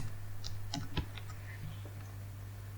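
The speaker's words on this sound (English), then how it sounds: "So I am typing wf underscore first underscore sample." Fingers tap out a short run of keystrokes on a computer keyboard, quick soft clicks clustered in the first second or so, followed by a faint steady room hum.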